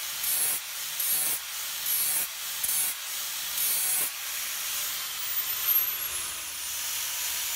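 Angle grinder with a 400 grit disc lightly touching a hot cutter blacksmith tool, a hissing rush in five or six short bursts with gaps between, fading into a softer continuous whir.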